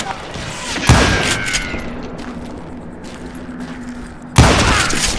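Gunfire in the Western shooter game Call of Juarez: Gunslinger, two sharp loud shots a few seconds apart, each followed by a ringing decay, with a steady background rumble between them.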